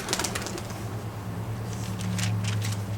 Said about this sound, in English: Did you hear that? It was birds.